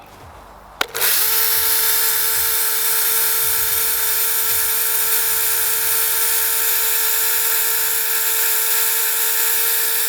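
A Revolt BCS 280 mini battery chainsaw starts with a sharp click and then runs at a steady, loud high-pitched whine without a break, the motor holding one even tone while its oil feed is checked.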